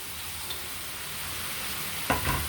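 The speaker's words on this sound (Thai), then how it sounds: "ผัดต่อเลยครับ ผัดแก้คอขึ้นช่ายสุกนะครับ" Fried tilapia pieces and celery stir-fried in a pan give a constant hissing sizzle up close, then a brief clatter of a stirring utensil near the end.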